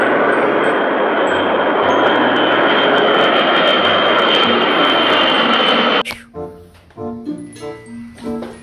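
A loud jet engine roars steadily from a toy airplane for several seconds, then cuts off abruptly, leaving quieter clattering and scattered sounds.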